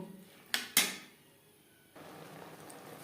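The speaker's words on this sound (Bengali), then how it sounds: "দু তিন মিনিট মুগ ডাল মটরশুঁটির সাথে নাড়াচাড়া করে নেব" A spoon knocks sharply against a pan twice in quick succession while soaked moong dal is stirred with peas, then only a faint low background remains.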